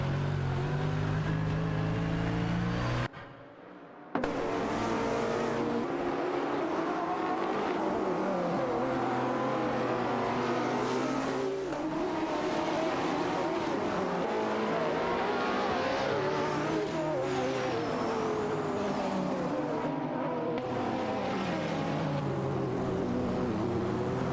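Race cars speeding past in quick succession, loud engine whines rising and falling in pitch with repeated revving as they pass close by, broken by a brief cut to near-silence.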